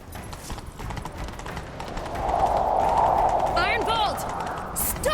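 Horse hooves gallop in The Witcher 3, a steady rapid clip-clop under game music, with brief character voices and a horse snort near the end.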